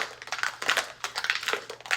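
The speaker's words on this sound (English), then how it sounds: "That's the sound of a margarita being made." Ice crushing for a margarita comes through as a rapid crunchy grinding and rattling in repeated bursts, fairly close and moderately loud, with no talk over it.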